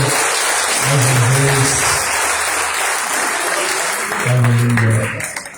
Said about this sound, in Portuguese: Pode aplaudir o Senhor mais uma